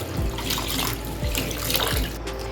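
Masoor dal lentils are rinsed in water, a continuous splashing wash with three soft low knocks as the grains are swirled and handled, close and without speech.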